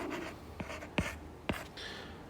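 Marker or chalk strokes on a board, a few quick scratchy swipes and taps with two sharper strokes in the middle, close and faint, with no speech.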